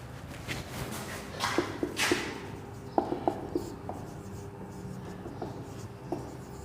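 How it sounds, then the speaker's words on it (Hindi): A hand writing an address on paper, with soft scratching pen strokes and light taps coming in short bursts against a quiet room background. "तो सबसे पहले आप लिखेंगे आपका एड्रेस"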